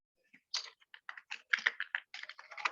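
Typing on a computer keyboard, quick irregular bursts of close, crisp key clicks with short pauses between runs, no voice over them.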